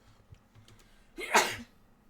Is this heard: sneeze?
yes